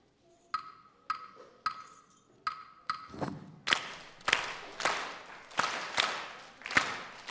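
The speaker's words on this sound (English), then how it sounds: "And the next instrument is the claves." Two wooden claves knock out a syncopated pattern, first as dry, bright clicks with spaces between, then joined by sharper, louder strikes in a steady repeating rhythm, close and without voices.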